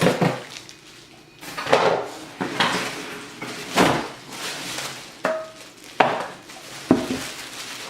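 Viking 3-ply stainless steel cookware lid being handled during an unboxing, with a series of sharp metallic clanks and knocks at irregular intervals, close and fairly loud, separated by quieter rustling.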